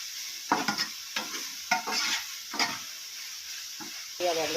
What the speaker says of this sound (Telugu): తర్వాత మూత తీసి మళ్ళీ కొంచెం కలుపుకోవాలండి.